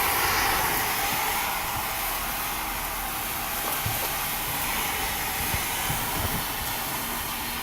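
Irish Red beer poured into a hot pot of deer chili with browned meat, giving a steady loud broadband sizzle and hiss that runs unbroken for several seconds, close up with no talking.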